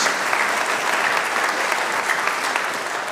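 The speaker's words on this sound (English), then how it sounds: "can we give a round of applause?" A congregation applauding in a church service, a loud, thick, continuous wash of clapping from many people with no voices standing out.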